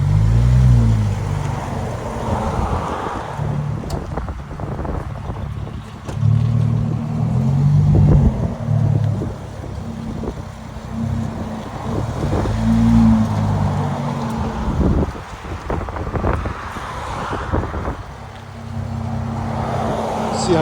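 A 2018 Jaguar F-Pace Type S 3.0L turbo SUV with a muffler delete revs and roars in bursts, loud and close, with deep rumbling between throttle blips and a faint voice in places.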